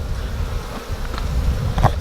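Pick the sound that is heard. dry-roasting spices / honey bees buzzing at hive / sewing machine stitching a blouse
honey bees buzzing at hive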